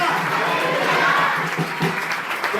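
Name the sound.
congregation clapping loudly in church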